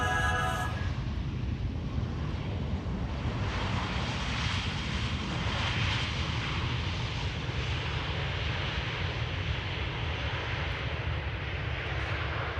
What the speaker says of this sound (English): Air Arabia Morocco, flight 127, arriving from Tangier, which is in Morocco in the north of Africa.